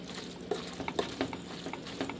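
Meat sauce for baked spaghetti simmering on a lit stovetop burner, a steady soft bubbling hiss with a few brief clicks and scrapes, close and fairly quiet, no talking.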